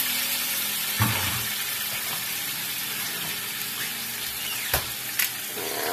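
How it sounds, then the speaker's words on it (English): Sliced onions and potatoes sizzle steadily in butter in a hot pan, a continuous close hiss broken by a few sharp clinks of a stirring utensil. "Stir in my onions. Go ahead and put my potatoes back in there."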